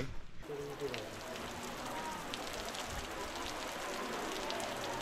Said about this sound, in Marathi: पाऊस भारी लागतं एकदम